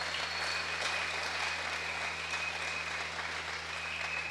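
Steady, dense applause from a church congregation at a worship service at CMP Matadi, sustained and even throughout without talk.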